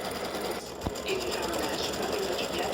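An embroidery machine stitches freestanding lace for a St. Patrick's Day hat, running in a steady mechanical whir with one sharp click partway through and no talk.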